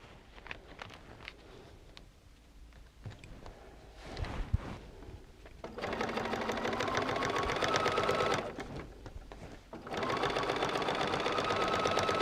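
A sewing machine stitches paper-pieced quilt blocks in two steady, close bursts of rapid needle chatter, separated by quiet handling and shuffling of the fabric.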